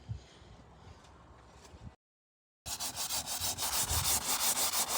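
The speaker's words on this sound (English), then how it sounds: "Now we'll do the drop cloth and then we'll get to sanding." A carbon fiber spoiler on a Lexus is sanded by hand in rhythmic rubbing strokes, soft at first and then loud and close after a short silence.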